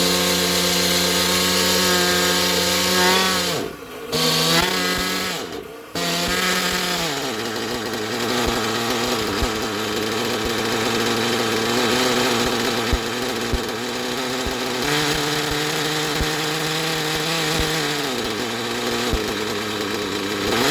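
Nitro RC buggy engine, an Ofna Hyper 7 with a Hyper 3-port turbo engine running on 33% nitro fuel, screams loud and close with a steady high-pitched whine, briefly cutting out twice near the start before revving on, running rich.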